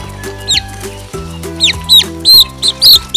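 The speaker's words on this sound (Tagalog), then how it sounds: "magpakain na muna po tayo sa ating mga alagang manok" Pet chickens cluck and chirp in short, close calls while being fed, repeated squawks rising over a steady low hum and background farmyard noise.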